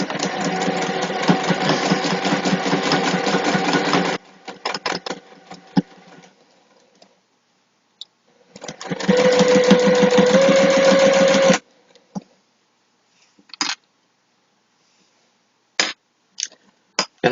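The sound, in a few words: sewing machine stitching a clutch wallet seam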